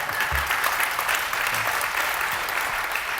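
Audience applause at a media panel: continuous, even clapping from a crowd, loud and sustained, with brief low voices briefly surfacing beneath it.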